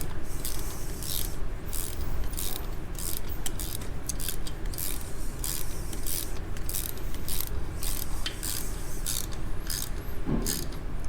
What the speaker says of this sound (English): that won't stop us from tightening the breather screws down